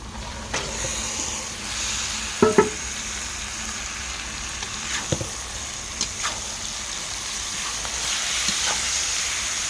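Onions frying in a pan and being stirred, a steady hissing sizzle with several sharp clinks and scrapes of a utensil, close and moderately loud, no talk.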